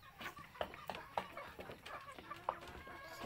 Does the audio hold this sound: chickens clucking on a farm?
yes